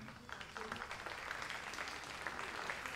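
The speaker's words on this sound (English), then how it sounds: "Big applause for them." A crowd applauds Chinese shooters at a shooting competition, a faint, steady patter of clapping that runs for a few seconds under a voice talking.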